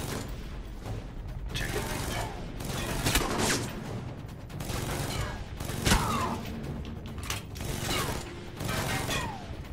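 Enemy gunfire in the video game Alpha Protocol, a busy stretch of rattling bursts and sharp shots over a mechanical clatter, fairly continuous and moderately loud.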